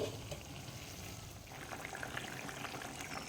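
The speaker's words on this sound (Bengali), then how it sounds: "মাছের ঝোল আমাদের ফুটে গেছে" A thin snakehead fish curry with drumsticks and potato simmers in a covered pot, giving a faint, steady watery bubbling that carries on evenly throughout, with no voices.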